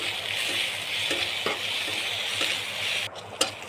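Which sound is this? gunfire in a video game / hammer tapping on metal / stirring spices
stirring spices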